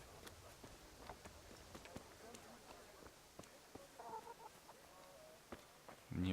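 Chickens cluck in a village in the medieval role-playing game Kingdom Come: Deliverance, as brief scattered calls under game speech and ambient sound, with a louder burst at the very end.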